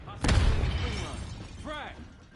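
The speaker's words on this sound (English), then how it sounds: "Watch out! Grenade!" A grenade blowing up in a video game, heard as a sudden loud boom with a rumbling tail, followed by a voice speaking.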